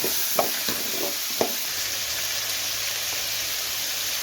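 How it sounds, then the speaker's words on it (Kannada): Potato, carrot and beans frying in a pan for rava upma, a steady soft sizzle with a few sharp stirring scrapes early on, close and alone. "ತರಕಾರಿ ಎಲ್ಲ ಫ್ರೈ ಮಾಡ್ಕೊಂಡಿದ್ದೀನಿ"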